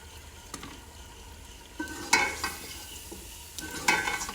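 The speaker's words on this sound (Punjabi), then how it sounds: "ਹੁਣ ਗੋਸ਼ਤ ਪਾ ਲਈਏ। ਇਹ ਵੀ ਥੋੜਾ ਨਾ ਘਿਓ ਦੇ ਵਿੱਚ ਭੁੰਨ ਲਈਏ।" Mutton and potatoes fry in ghee as a spoon stirs them, giving several scraping strokes over a constant sizzle; close, moderately loud, no talking.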